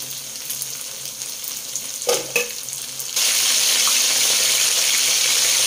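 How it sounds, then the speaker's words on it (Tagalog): Pork meat frying in a pan for a sisig-style dish, a quiet sizzle with a couple of stirring knocks, then a sudden louder, steady crackling hiss that fills the rest. "piniprito na rin po natin yung karne natin"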